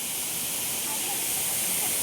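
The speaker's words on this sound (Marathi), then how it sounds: "हमारा हिडन धबधबा" A hidden waterfall called Hirvaii rushes in a continuous, loud, broadband hiss that stays steady and close for the whole stretch, with no breaks.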